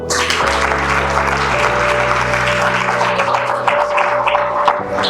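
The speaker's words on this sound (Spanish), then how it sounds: "Pégale un aplauso al Señor." A church congregation applauds loudly and continuously, a thick wash of many clapping hands over sustained low instrumental tones that hold underneath.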